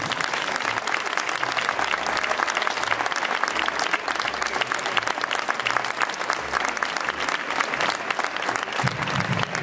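An audience at an outdoor village festival performance applauds steadily, a dense continuous clatter of many hands that holds at a constant level throughout.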